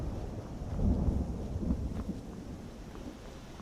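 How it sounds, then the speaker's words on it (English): Distant thunder rumbles in the video game Skyrim, a low, soft, rolling swell that builds briefly and fades against a quiet ambient background, with no rain. "Got thunder rolling in the distance, but no rain yet, just the thunder."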